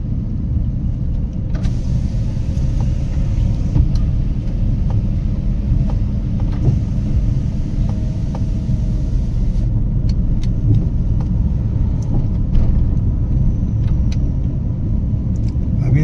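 Car being driven in second gear during a driving lesson, a steady low engine and road rumble throughout, with occasional faint clicks and taps inside the cabin.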